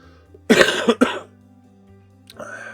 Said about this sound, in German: Ihr hört es immer noch ein bisschen Husten.